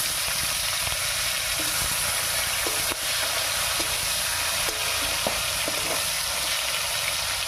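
Chopped tomato frying in hot oil with whole garam masala and cumin seeds, giving a steady, loud, close sizzle that runs on without a break, with a few faint clicks of a utensil against the pan.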